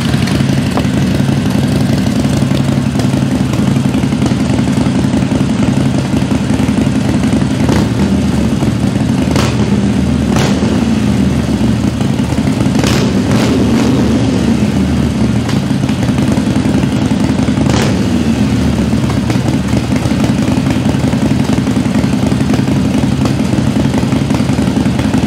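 A Harley-Davidson fitted with Vance & Hines Short Shots exhaust idles loudly right beside the microphone, a deep uneven lumpy rumble running steadily, with a few sharp throttle blips in the middle.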